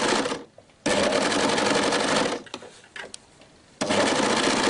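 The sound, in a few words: sewing machine sewing sleeves onto a T-shirt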